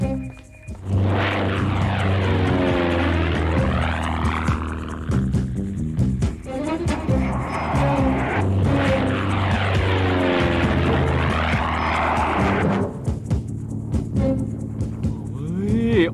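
Propeller airplane in a Thai tokusatsu TV series (Jumborg Ace), droning steadily and loudly for the whole stretch with wavering, sweeping engine tones, layered with dramatic background music and effects.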